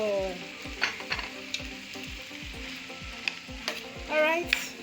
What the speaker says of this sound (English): I'm going to stir